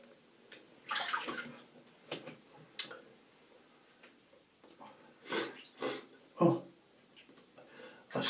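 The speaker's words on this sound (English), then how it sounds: "you can see that it lathers up quite nicely" Pereira Shavery shaving soap is worked into lather, giving soft wet swishing and squelching bursts that come and go, quiet and close, with brief pauses between strokes.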